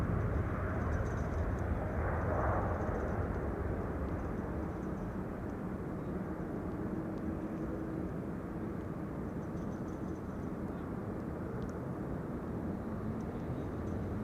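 A jet airliner roars as it takes off at Amsterdam Schiphol Airport, a broad, steady rumble heard from a distance that slowly eases as the plane climbs away.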